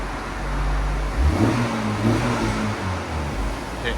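A 2024 Honda Civic Type-R 2.0L turbo with an AWE cat-back exhaust accelerates nearby, its deep but fairly quiet engine note climbing steadily in pitch, with no talking.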